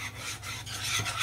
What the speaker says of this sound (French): Et là, je vais fouetter.